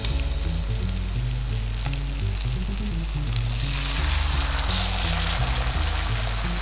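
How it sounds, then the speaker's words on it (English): Vegetables for sweet and sour chicken stir-fried in a wok, a loud, dense hiss of frying that swells partway through, under a steady low drone and rhythmic background music, with no talking. "Give it a little stir fry. We do not want to char this veg."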